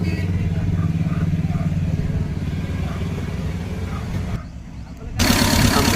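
A Tata Ace engine runs just after a bore repair, a steady close clattering idle that drops briefly near the end, then picks up again and keeps running.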